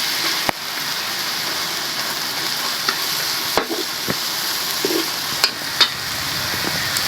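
Bitter gourd sautéed with egg and tomato sizzles steadily in a pan, with occasional scrapes and clacks of a utensil stirring up close.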